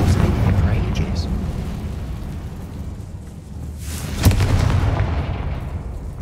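The Confringo fire spell explodes in Hogwarts Legacy, a heavy booming blast with a rumbling tail, then a second sharp burst later, under faint background noise.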